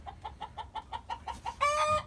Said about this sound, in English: Yep, about 50 laying chickens